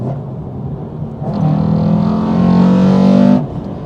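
A tuned Toyota 86 sports car engine revs up hard nearby, a deep, rough roar that holds for a couple of seconds before cutting back to idle.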